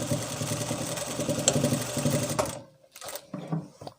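A sewing machine runs steadily at close range, double-stitching palazzo pants, then stops abruptly, leaving a few faint clicks and handling noises.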